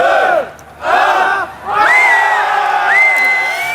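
Large crowd of more than two thousand people on the Champs-Élysées at a mobile phone launch, loud shouting and cheering voices surging in waves, nearby and continuous.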